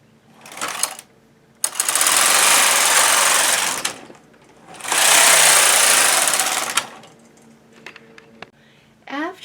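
Knitting machine carriage knitting 24 rows of ribbing, loud close whooshing passes lasting two seconds each, separated by pauses with brief clicks and clacks of the mechanism.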